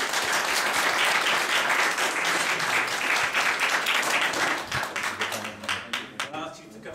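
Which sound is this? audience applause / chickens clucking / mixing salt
audience applause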